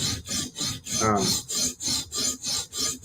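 A blade is sharpened on an 80 grit stone with regular back-and-forth rasping strokes, about three per second, close and alone with no talk.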